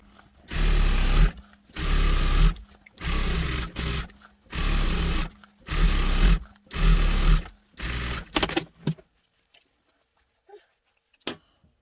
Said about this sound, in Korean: 밑단처럼 한번더 눌러서 박음질 해주세요